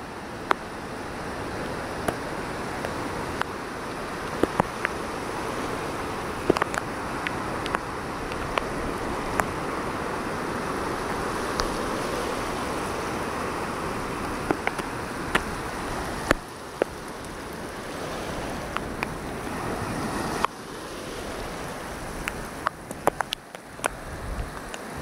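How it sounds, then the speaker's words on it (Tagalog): Heavy rain pours steadily and densely outdoors, a continuous close hiss with scattered sharper drop impacts throughout and no speech. "Inabot kami ng lakas ng ulan dito."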